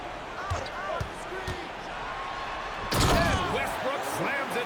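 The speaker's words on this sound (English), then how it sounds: "And Westbrook slams it home." A basketball video game crowd roars as Westbrook finishes a slam dunk, with a dull slam and ball thuds under sports commentary and a sudden surge of cheering noise midway.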